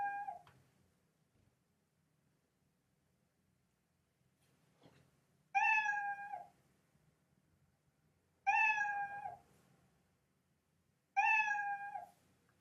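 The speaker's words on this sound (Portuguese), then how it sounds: "Se você só colocar aqui o somzinho dele, ó, som, miau." A cartoon cat meow sound effect plays in Scratch: three clear, separate meows evenly spaced a few seconds apart, each loud and close, with a fainter partial call at the very start and near-silence between.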